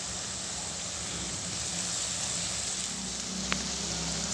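Garlic and ginger fry in hot oil with onions, giving a soft, continuous sizzle at moderate volume with one brief clink near the end.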